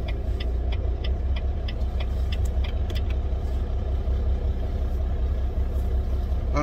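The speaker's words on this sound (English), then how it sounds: "The truck's actually been running, it's been running now for about 40 minutes." A truck engine idles in cold morning air after running for about forty minutes, a steady low rumble with faint regular ticking on top, continuous and close with no talk.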